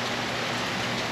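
Rain falls steadily as a dense, even hiss of drops, continuous and close for about a second, with no voices.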